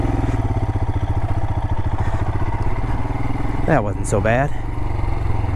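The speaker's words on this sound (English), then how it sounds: "Don't really like being in first gear with so much engine braking on this stuff" A motorcycle engine runs steadily in first gear on a rocky canyon jeep trail, a loud, close, continuous rumble with heavy engine braking, while a rider talks briefly over it near the end.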